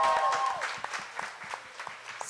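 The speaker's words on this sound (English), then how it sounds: "Clap it up for sisterhood." Audience applause at a 2017 Women in Media conference, fuller at first and then thinning into scattered individual claps that fade into the room's quiet background.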